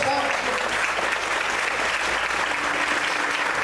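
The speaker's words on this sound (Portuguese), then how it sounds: "Glória a Deus, aplaude o Senhor mais forte." A church congregation claps loudly and continuously in a dense, even burst of applause filling the room, with scattered voices mixed in beneath the clapping.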